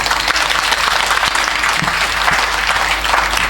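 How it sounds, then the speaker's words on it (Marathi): Audience clapping together at a Marathi devotional saptah gathering, a dense, steady wash of applause that stays loud and continuous for the whole stretch. "टाळ्या तुम्ही परत जोरात वाज म्हटलं मी."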